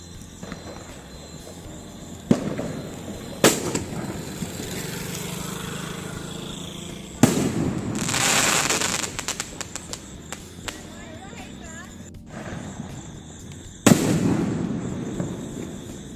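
Diwali firecrackers going off outdoors, several sharp loud bangs spaced apart with crackling bursts and lingering rumble between them, while people talk in the background.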